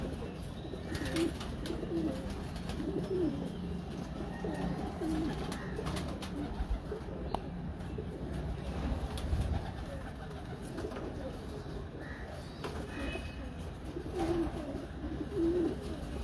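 Breeder pigeons coo softly and repeatedly in low, rolling calls, faint and spread across a steady ambient hum, with little else around them.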